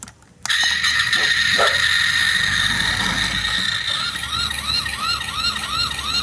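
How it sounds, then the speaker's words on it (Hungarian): A fire engine siren starts abruptly after a short quiet moment, then wails loudly and steadily with a continuous rising and falling tone, close by, with no voices. "Megjött a tűzoltóautó."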